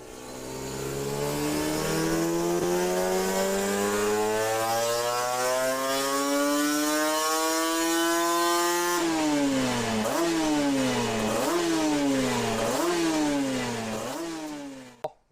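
A Yamaha TDR 240cc twin-cylinder motorcycle engine revs loud and close, climbing steadily in a long sustained run, then blipping up and down in a series of quick repeated throttle bursts before cutting off.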